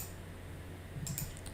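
Soft, quiet keystrokes on a computer keyboard, a short burst of a few clicks near the end over faint room hum.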